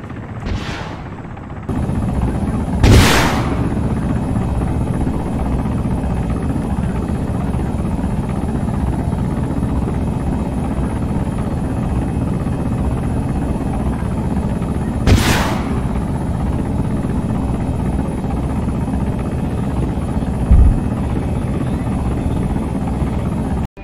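A Mi-28N attack helicopter flies with a continuous loud rotor and engine roar, broken by a few sharp short bangs near the start and middle, with no voices.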